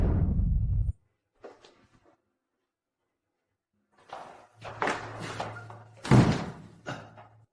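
A door thuds and bangs open at close range in a tense hospital drama scene, with a loud knock, a pause, then a cluster of heavy thumps and rattles.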